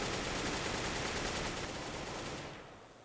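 Rapid automatic gunfire in a Counter-Strike style tactical shooter match: a sustained dense burst for about two and a half seconds that then fades out, with no talk heard.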